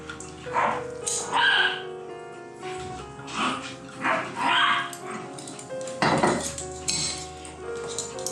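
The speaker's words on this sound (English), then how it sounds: "That's my dog, sorry about that." A dog barks indoors in a home kitchen during cooking, giving several loud, sharp barks in separate bursts over a steady background hum, with a person talking in between.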